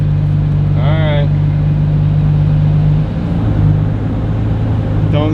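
A Ferrari engine hums low and steady while driving, its pitch shifting midway, with a person talking briefly over it inside the car.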